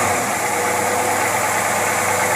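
A Buick engine fitted with dual WCD carburetors runs at idle, a dense, steady mechanical rumble with faint knocking, loud and close throughout with no voices.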